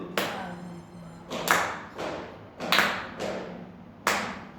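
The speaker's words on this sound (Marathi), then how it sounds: "2 टाळी झाली." Hand claps counting a rhythmic cycle: about six sharp, close slaps in an even, unhurried pulse, each with a short ringing decay.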